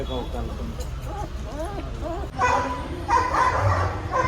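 A puppy yips and whimpers in short high bursts close by, with people talking throughout.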